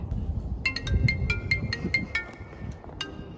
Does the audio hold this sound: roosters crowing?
no